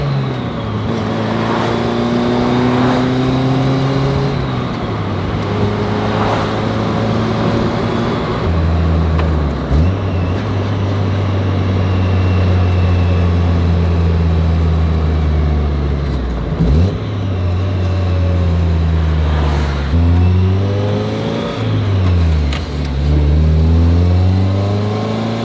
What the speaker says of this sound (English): let's get a nice lukewarm start up on the car